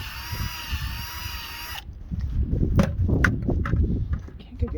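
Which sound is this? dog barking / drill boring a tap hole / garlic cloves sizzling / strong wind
drill boring a tap hole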